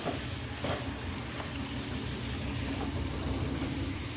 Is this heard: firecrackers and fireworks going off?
no